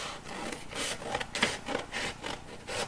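Cardboard being folded and cut along a box outline gives a close, rhythmic rasping and scraping, repeated strokes rising and falling in loudness, with no speech.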